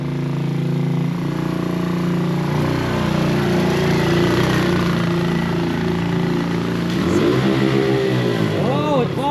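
A CFMOTO C-Force 110cc youth ATV engine held at full throttle, a steady, loud buzzing drone close by with a brief pitch drop near the end, while people talk over it.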